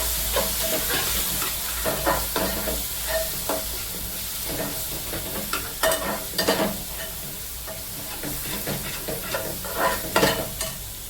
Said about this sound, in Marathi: मसाले चांगले भाजले गेलेले आहेत